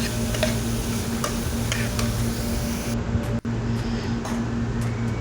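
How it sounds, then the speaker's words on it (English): Vegetables for fried rice sizzling steadily in a hot pan while being stirred, a continuous close frying hiss with scattered light scraping ticks and a brief break near the end. "just stir for 2 minutes, not too long"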